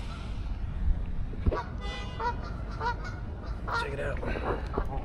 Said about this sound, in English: This is a water bird. I'm not sure what kind,